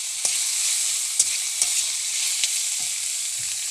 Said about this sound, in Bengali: আমার কুঁদরিটা ভাজা হয়ে এসেছে